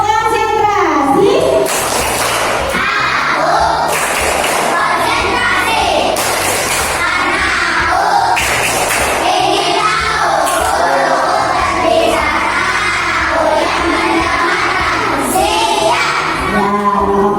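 Schoolchildren in a classroom perform a clapping chant, with sharp bursts of claps recurring at regular intervals between loud, close chanting voices.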